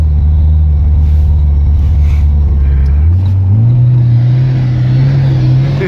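A car engine drones loudly and steadily while driving off-road on petrol, holding a low rumble and then climbing to a higher pitch as it revs.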